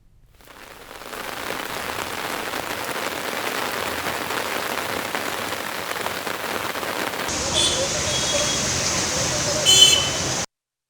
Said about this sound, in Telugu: సికింద్రాబాద్ బోయిన్పల్లి అల్వాల్ ప్యాట్నీ పారడైజ్ బేగంపేట ప్రాంతాల్లో కురుస్తున్న వానకు రహదారులన్నీ జలమయమయ్యాయి